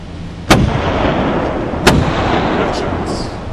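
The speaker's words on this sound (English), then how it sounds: "Gunshots." Two sharp gunshots ring out about a second and a half apart, each a loud crack with a short rumbling tail over a low background hiss.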